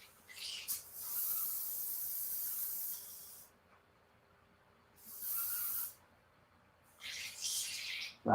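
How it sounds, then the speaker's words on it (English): Airbrush spraying cleaner through its nozzle while painting miniature marines, giving three separate bursts of airy hiss, a long first one, a shorter middle spray and a final sputtering burst, close and fairly quiet with no talk. "I'm gonna run a little cleaner through it."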